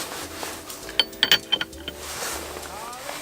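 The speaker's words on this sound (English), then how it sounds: "there is a nut on the inside, and I'm just going to grab my socket here" Socket wrench turning the 19 mm nut that holds a car's steering wheel, a few sharp metallic ratcheting clicks bunched near the middle, close and moderately loud, with faint room noise around them.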